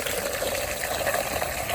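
A garden hose fills a homemade PVC chicken watering system with a steady, close rush of flowing water that gushes on without a break and has no talking over it.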